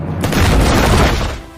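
A grenade explodes in a WWII urban battle inside a Stalingrad building, a single loud, close boom with a broad roaring blast that sustains for about a second before fading.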